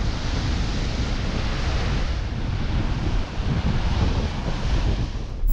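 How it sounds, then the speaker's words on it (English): Savage storm winds and rough sea during Storm Goretti in Cornwall, a loud continuous roar of wind buffeting the microphone over crashing surf, steady throughout with no voices. "Tens of thousands of homes plunged into total blackout amid savage winds and rain."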